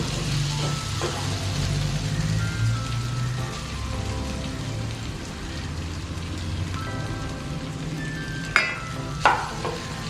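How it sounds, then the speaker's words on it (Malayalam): Prawns sautéing in a pan for Kerala-style prawn theeyal, giving a steady low sizzle and crackle with soft stirring scrapes, then two sharp utensil clinks near the end. "കൊഞ്ചും എല്ലാം ഇട്ടൊന്ന് വഴറ്റും"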